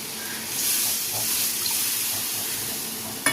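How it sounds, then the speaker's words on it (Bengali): Water pours steadily into a pan of fried spices for a Bengali-style river fish curry, a continuous broadband gush lasting about three seconds, then a short clatter at the end. "এবার আমি এর মধ্যে জল দিয়ে দিচ্ছি"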